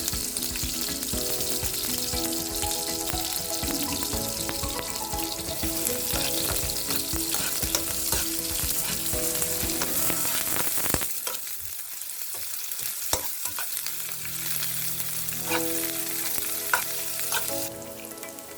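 Onions sizzle steadily in a hot pan, frying until fragrant, a loud, continuous crackle with occasional stirring scrapes, no voices.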